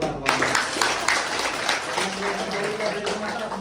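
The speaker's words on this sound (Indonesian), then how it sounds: "Tepuk tangan." Classroom clapping from pupils during a teaching practice lesson, a brisk burst of hand claps running steadily under overlapping children's chatter and voices.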